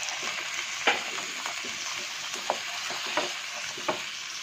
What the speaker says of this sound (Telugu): సో ఇప్పుడు నేను టొమాటోస్ వేసుకుంటున్నా. 4 టొమాటోస్.